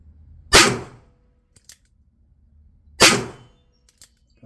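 Two sharp, loud gunshots from a Pietta .357 Magnum Peacemaker revolver crack out about two and a half seconds apart, each followed by a short decay and faint clicks of handling between them.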